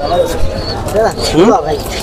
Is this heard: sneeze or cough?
no